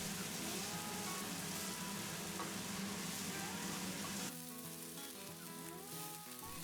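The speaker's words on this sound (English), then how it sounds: "add your diced onions and fry those until they're soft and brown" Diced onions fry in hot oil in a pan, giving a loud, steady sizzle with no talking; partway through the crackle thins slightly as the pan settles.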